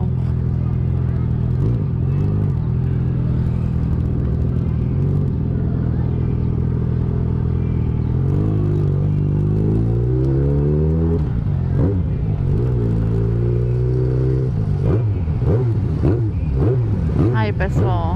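Busy street traffic with cars and engines rumbling and passing close, revving and accelerating in waves over a continuous low drone, while people talk now and then.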